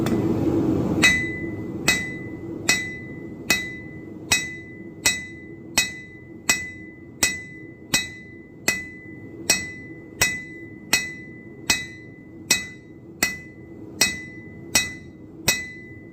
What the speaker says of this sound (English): Put pressure on this side, tip your hammer, and then I start at the back and go towards the tip.